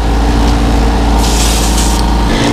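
Loud continuous airbrush hiss close by while dusting paint onto a crappie fishing lure, a steady spray with a brighter burst in the middle, over a constant compressor drone and no talk.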